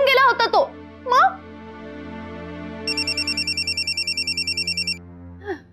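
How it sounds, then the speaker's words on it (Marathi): A mobile phone ringtone plays indoors, a repeating electronic melody of about a dozen even pulses, moderately loud, with a voice and other voices speaking around it. "शशांकचा फोन."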